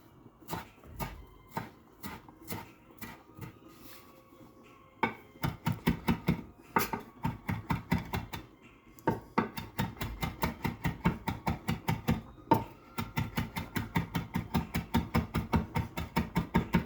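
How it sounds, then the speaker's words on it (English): Parsley being chopped with a knife on a cutting board, close and crisp, starting as scattered separate cuts and then settling into a fast steady run of rhythmic chops with short pauses in between. "We're gonna chop the parsley also."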